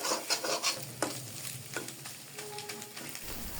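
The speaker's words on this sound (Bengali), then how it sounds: "আমার ডিমটা অনেকটাই ভাজা হয়ে গেছে।" An egg frying in a pan on a low flame gives a soft, close sizzle with scraping and stirring noises over a few seconds, with no speech.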